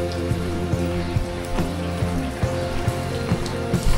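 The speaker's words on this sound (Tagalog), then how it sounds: "Malakas ang ulan." Heavy rain pours steadily, a dense continuous wash with scattered louder drips and patters striking a surface nearby, no voices.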